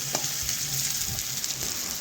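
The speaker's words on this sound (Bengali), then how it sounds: "এক পাশ একটু নাড়াচাড়া করে আর এক পাশ দেখুন আলুগুলো একটু ভেজে নিয়েছি" Potatoes fry in oil in a kadai, giving a steady close sizzle and crackle with occasional stirring scrapes, and no voices.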